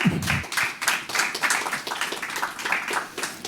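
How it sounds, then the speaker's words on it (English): Audience applause at a conference session on secure communications for United Nations computing, a steady patter of many hands clapping that carries on evenly from start to finish after a brief low thump. "First, a round of applause, please,"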